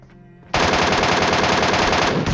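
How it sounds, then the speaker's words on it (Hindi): A loud, unbroken burst of rapid automatic gunfire fills about two seconds of a PUBG Mobile match, with a quiet game background just before the shooting starts. "अब फाइट स्टार्ट हो चुकी है, क्योंकि मैंने एमके के 2 फायर कर दिए हैं।"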